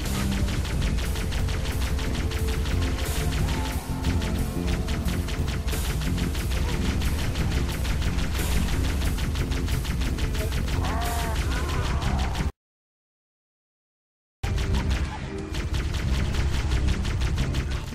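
A Covenant Ghost vehicle's plasma cannons in Halo: Combat Evolved fire in rapid, continuous bursts, loud and close. The firing breaks off for about two seconds of complete silence, then resumes.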